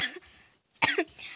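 A woman who may have caught a cold coughs twice in a harsh, close burst after a short silence, with no talking.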